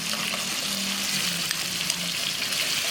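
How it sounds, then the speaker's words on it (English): Ground pork stir-fries in a pan for a Northern-style chilli dip, a close, steady hissing sizzle with faint stirring scrapes and a low hum underneath. "And stir fry."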